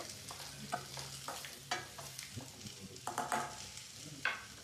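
Tomatoes fry in a pan as the base for a paneer gravy, a soft continuous sizzle broken by irregular taps and scrapes of stirring, close and fairly quiet, with no voices.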